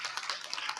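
A brief burst of audience applause closes a session at an international conventions pavilion event, a thin patter of clapping hands that is fairly quiet and lasts under a second.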